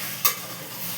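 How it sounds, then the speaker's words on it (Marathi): Spicy chicken biryani masala is stirred in a pan over a steady soft sizzle, with one brief scraping stir stroke near the start, quiet and close, no talk. "बघा आता आपण ते फिरून घेऊ एकदा आणि त्याच्यामध्ये टाकू आपण मग"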